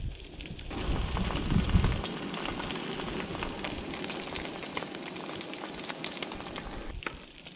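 A 50-day dry-aged ribeye sizzles on a Skottle griddle, a steady close crackle and hiss with a louder burst near the start, continuing without speech.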